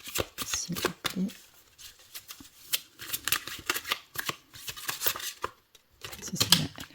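Tarot or oracle cards being shuffled by hand, with rapid riffling and flicking bursts that come in uneven clusters, close and crisp, while someone speaks French between and over the shuffling.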